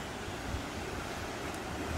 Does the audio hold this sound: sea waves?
yes